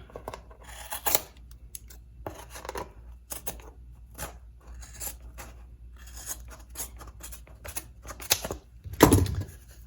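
Scissors snip through fabric in a series of close, crisp cuts with short pauses between, ending in a louder rustle.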